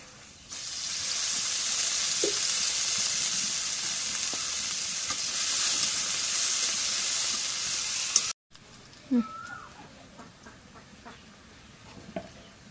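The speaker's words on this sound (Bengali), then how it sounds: "এখন এই যে পেঁয়াজ মরিচ ভাজা হয়েছে তেলে," Steady, loud sizzling of onions and chilies frying in hot oil fills most of the clip, then cuts to a quieter crackle with faint stirring.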